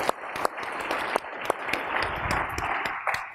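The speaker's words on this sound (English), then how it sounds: "we should take a moment, and for Shamina as well, to applaud your courage in doing this" Conference audience applauding, a dense steady clapping at moderate distance with a few sharper individual claps standing out, continuing for several seconds without talk.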